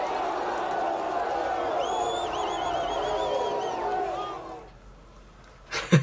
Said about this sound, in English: they do like have an applause in the end as well